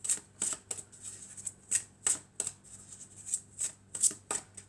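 Angels and crystals oracle cards shuffled by hand: about a dozen sharp, papery riffles in a steady rhythm, close and distinct, with no speech.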